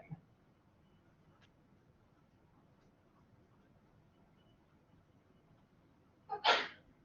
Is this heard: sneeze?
yes